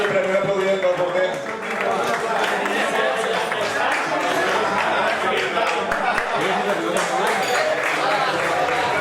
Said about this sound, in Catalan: aplaudiment pel porter